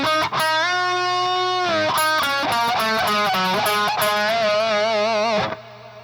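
Distorted electric guitar plays the solo from a song, loud and sustained with bent, wavering notes and quick runs before cutting off near the end.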